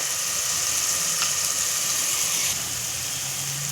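Garlic, ginger and green chili paste frying in oil in a pan, a dense continuous sizzle heard close and steady, easing slightly near the end.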